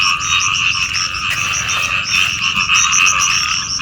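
Bullfrogs breeding in a public park fill the air with a dense, steady chorus of loud, overlapping croaks that continues unbroken and close by, with no one speaking.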